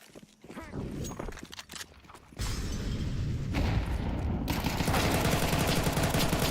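AK rifle fire in a competitive shooter video game, heard as a burst of loud, rapid shots over steady game ambience, with footsteps and other in-game noise around them.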